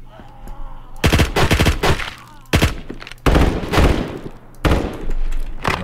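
Unsuppressed gunfire in a video game with a broken suppressor: several loud, sharp shot bursts in quick succession, some rapid multi-shot volleys, separated by short gaps, with no talking.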